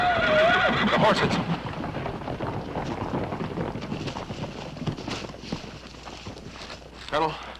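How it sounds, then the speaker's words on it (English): Horses whinnying loudly up close while hooves clip-clop over wind noise, in a western setting in Mescalero country, with the neighing strongest at the start and a final snort near the end. "The horses."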